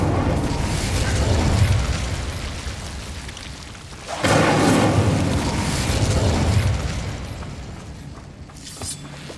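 An Incendio fire spell erupts in Hogwarts Legacy as a heavy, roaring blast with a rumbling, crackling tail. A second loud burst follows partway through, both close and dominant, with no talking.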